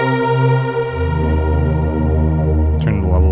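A sustained Novation Peak synth tone with heavy modulated effects and echoing reverb turned up to maximum size, shifting pitch near the end; loud and alone without talk.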